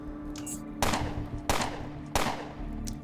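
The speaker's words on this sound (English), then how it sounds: "It can shoot me without moving, but I can't shoot it without moving?" Gunfire in the Underrail video game: three sharp, loud shots spaced about a second apart, each with a short echoing tail over a steady background hum.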